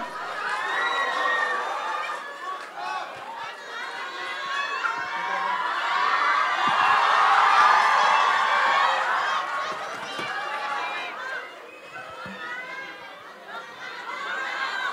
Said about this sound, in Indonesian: Tepuk tangan untuk Tom Lembong.